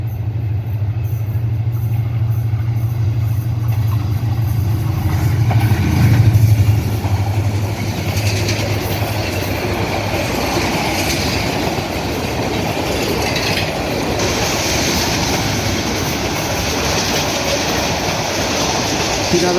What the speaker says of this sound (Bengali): 3017 সিরিজের লোকোমোটিভ নিয়ে কুড়িগ্রাম থেকে ছেড়ে আসা ঢাকাগামী 798 down Kurigram express Chatmohar railway স্টেশনের 2 নম্বর লাইন দিয়ে পাস করে চলে যাচ্ছে